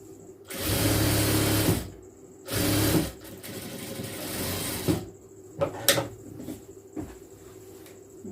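A sewing machine stitches churidar lining fabric in two loud, close bursts of rapid mechanical whirring, followed by quieter handling clicks and knocks of the cloth and machine.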